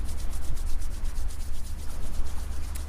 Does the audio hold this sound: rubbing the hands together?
yes